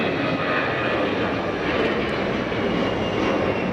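Airbus A320 jet engines spooled up to takeoff power at Geneva Airport, a loud, unbroken roar and whoosh that stays steady from start to finish, with no one speaking.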